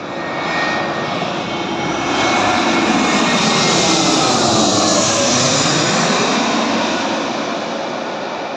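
An aircraft lands on an airport runway with a loud, close jet roar that swells, peaks midway and slowly tapers off, with no talking.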